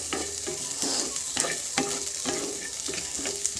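Sweet corn kernels fry in oil or ghee, a soft continuous sizzle with repeated light scraping taps from stirring, fairly quiet and without voices.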